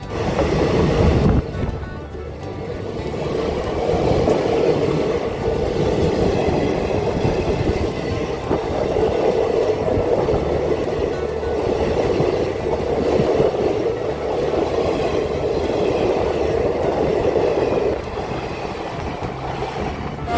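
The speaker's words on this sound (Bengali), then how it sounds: "এই ট্রেনে চেপেই প্রথমে হুগলিঘাট তারপরে জুবলি ব্রিজ এবং অবশেষে গরিফা স্টেশন পার করে আমরা চললাম নৈহাটি স্টেশনের পথে" A night local train runs toward Naihati station, a loud steady rumble and rattle of the carriage with a continuous rushing roar heard from inside, unbroken for the whole stretch.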